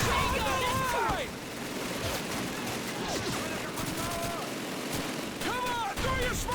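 Rattling machine gun fire from a Call of Duty Rhine crossing battle, with bursts of shots over a constant roar of combat and water, while voices shout and call out orders throughout.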